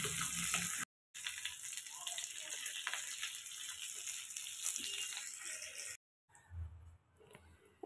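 Green chilies and black cumin seeds crackle and fry in hot mustard oil, a steady close sizzle with a faint high hiss, broken by a brief silent gap and a quieter stretch toward the end.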